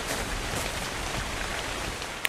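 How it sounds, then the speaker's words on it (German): Rain falls steadily in the video game Ark Survival Evolved, a dense and even hiss of drops with one brief sharp click near the end. "Es regnet."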